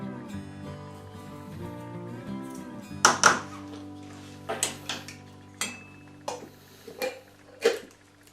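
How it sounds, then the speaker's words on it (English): A lid set onto a metal pot of apple rye whiskey mash, with several sharp clanks and knocks as it is handled and seated, over a faint background hum. "Put the lid on it."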